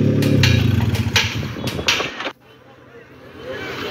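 A car engine with a newly fitted exhaust pipe runs loud and rumbling up close, with a voice speaking over it, then cuts off abruptly, leaving a quieter background.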